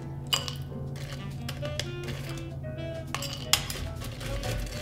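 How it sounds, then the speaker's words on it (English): Ice cubes clatter into a cocktail glass while an Old Fashioned with rye is made, giving a few sharp clinks over a steady low background hum. "We're going to add some ice to a cocktail glass."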